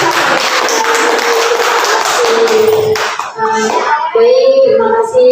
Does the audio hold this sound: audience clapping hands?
yes